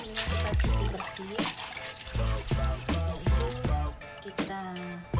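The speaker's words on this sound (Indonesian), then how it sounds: "Ini mie kita cuci bersih." Water pours and splashes steadily over noodles being rinsed clean, close to the microphone, with gurgling dribbles and brief breaks as the flow shifts.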